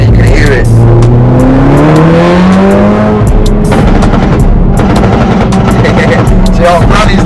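Audi S1 Quattro with a bigger-turbo stage 3 tune and decat exhaust, loud and close as it revs hard under acceleration. Engine pitch rises steadily, then drops, with crackles and pops on the overrun.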